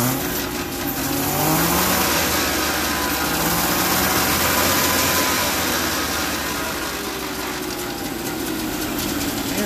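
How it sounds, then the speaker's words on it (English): A two-stroke DKW car engine idles steadily after its carburetor idle jet was cleaned, a dense, continuous buzzing rumble with light revving swells, loud and close with no talk. "Okay, so now the old Deke is idling pretty good."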